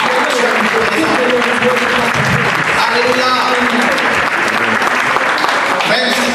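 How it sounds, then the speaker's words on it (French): A church congregation at a French-language service in Québec breaks into loud, sustained applause that fills the room at an even level throughout, dense clapping with a faint murmur of voices mixed in. "On acclame le Seigneur pour sa parole."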